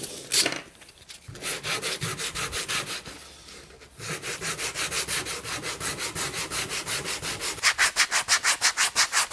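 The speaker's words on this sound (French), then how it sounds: "on va commencer à poncer tous les bords pour que ce soit un peu plus propre" Sandpaper rubs rhythmically along the edges of a wooden tit birdhouse, steady back-and-forth strokes close up, with a brief pause midway before resuming faster and louder.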